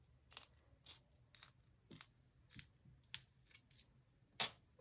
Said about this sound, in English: Let me sharpen my pencil real quick.